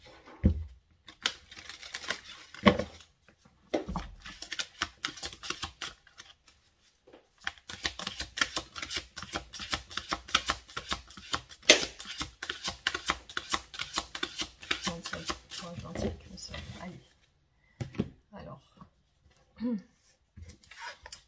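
Advice cards for a love reading are shuffled by hand in bursts of quick papery riffles and flicks, close and fairly soft, separated by short silent gaps.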